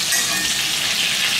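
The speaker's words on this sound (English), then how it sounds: "as you can hear, the sizzle is really nice" Pork searing in a hot pan gives a loud, steady, close sizzle and crackle that runs unbroken throughout, with no voices.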